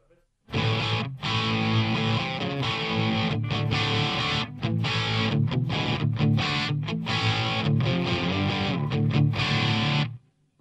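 Electric guitar played loud through a Jet City JCA50H amp on its overdrive channel, thick distorted chords ringing steadily for about ten seconds with brief choppy stops, no talking.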